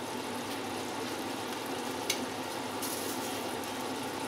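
Whole spices, including black cardamom, frying in a pan for a kofta biryani masala: a steady faint sizzle held evenly throughout, with one brief tap midway and no talking.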